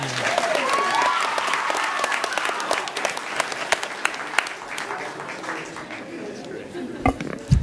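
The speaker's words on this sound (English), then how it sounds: "You can applaud that one." Applause fills the chamber at a city council meeting, a steady crowd clapping that holds, then thins and scatters into a few last claps.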